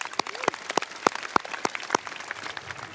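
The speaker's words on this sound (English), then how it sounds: "So let's give them a round of applause" Graduation crowd applauding at a high school commencement ceremony, sharp individual claps standing out over a steady bed of clapping from the audience, moderately loud and sustained.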